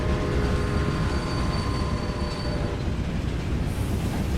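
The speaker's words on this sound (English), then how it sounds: "Let's manage this train." A train in the video game Railway Empire rolls steadily on its rails with a continuous rumble, wheel clatter and a faint metallic whine throughout, with no voices.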